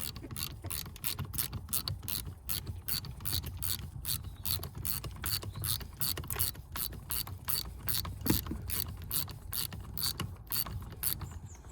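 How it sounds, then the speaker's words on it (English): A clamp being opened inside a 2011 Audi A4, giving a steady run of rapid ratcheting clicks, close and evenly paced for the whole stretch, with no voices. "Just gonna open that clamp."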